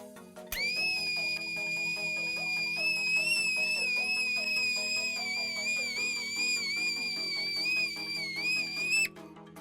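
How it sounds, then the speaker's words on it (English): A tea kettle filled with boiling liquid nitrogen whistles loudly and continuously, a sustained high-pitched wavering tone that starts abruptly and cuts off near the end, with no talking. "It made a whistling sound."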